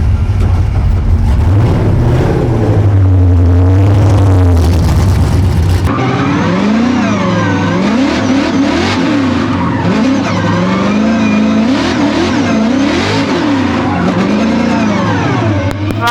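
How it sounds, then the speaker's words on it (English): A drift car at a DMEC round in Poland, running rough and misfiring on one cylinder, gives a loud, close, continuous engine note with uneven surging revs and tire squeal, with no talk over it. "We're down on the cylinder, misfiring."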